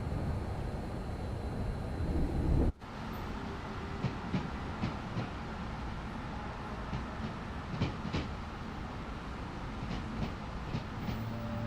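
A train in Train Sim World 6 rolls along the West Coast Main Line out of Crewe with a steady rumbling drone and evenly spaced rail clicks. A brief dropout comes early, and the run continues alone with no talk.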